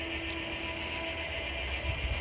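An NW2 switcher locomotive moving cars in the Chillicothe rail yard, heard as a steady low engine rumble with a faint sustained tone and light metallic rail noise, moderately distant and continuous throughout.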